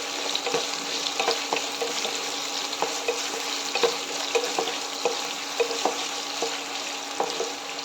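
Sliced garlic added to a pan and fried for a watermelon rind pickle, giving a steady close sizzle with regular light stirring scrapes and taps throughout, no talking.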